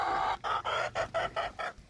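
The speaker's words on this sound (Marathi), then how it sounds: "कोंबड्या करकरायला लागले त्या." Hens in a farm shed cluck in a steady run of about seven short, loud bursts, close to the microphone, with no talking.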